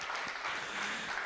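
A festival summit crowd keeps up steady, dense applause for a guest's arrival, a continuous mass of clapping with no voices.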